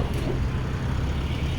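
A bus travels along the road on the outskirts of Coimbatore, a steady low engine rumble and road noise heard from inside, continuous and even, with no voices.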